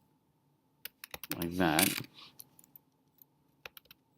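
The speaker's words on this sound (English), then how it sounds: "I would be typing in across like this" Scattered clicks of typing on a computer keyboard, arriving in short bursts of keystrokes with quiet gaps between them, with a person talking briefly in the middle.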